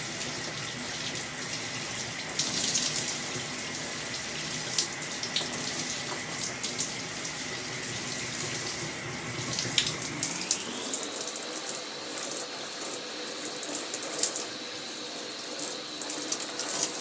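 Water runs steadily from a tap while curly hair is rinsed, a continuous close hiss and splash whose tone shifts partway through as the stream changes, no talking.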